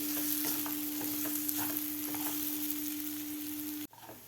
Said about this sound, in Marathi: हे मिक्सरमधून काढून घेतलेले मटार व्यवस्थित परतायचे आहेत